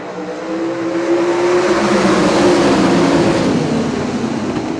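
Loud sprint car engines roar together at Jackson Speedway in a steady, droning wall of sound, building slightly in the middle as the pack drives on.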